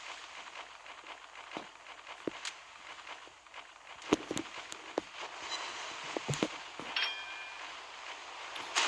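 Secondary guns firing from a warship in the naval combat game Naval Creed, heard as scattered sharp cracks and pops, some in quick clusters, over a low background rumble.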